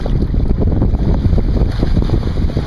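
Strong, gusting wind roars steadily over a lake during bass fishing from a boat, with continuous loud buffeting of the microphone and no talk.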